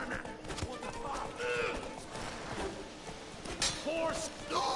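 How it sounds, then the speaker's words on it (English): Roach, a horse in The Witcher 3, snorting and whinnying amid hoof clatter and game noise, with a person talking over the animal sounds throughout. "Horse!"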